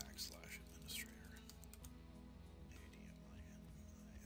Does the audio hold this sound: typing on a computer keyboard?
yes